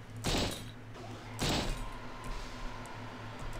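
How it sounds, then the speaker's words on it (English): Shuttle bay machinery in the video game System Shock 2 lets out two heavy, booming thuds about a second apart, loud and close, followed by a steady low mechanical hum. "The shuttle bay noise fucking freaked me the shit out."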